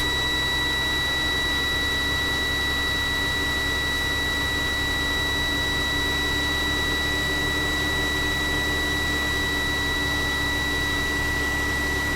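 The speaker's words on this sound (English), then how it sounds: "we're going to put the truck into neutral and start the engine" Steady drone of an idling truck engine in neutral with a constant high-pitched air brake warning buzzer running through it, unchanging from start to finish.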